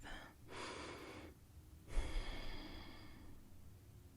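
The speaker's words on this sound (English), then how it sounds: "Deep breath." Two slow, deep breaths close by, a long inhale followed by a fuller exhale, quiet and alone.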